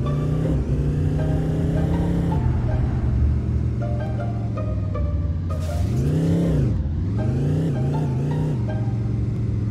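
A car engine in the Guts and Glory video game, a steady loud droning rumble that rises and falls in pitch as it revs, continuous throughout.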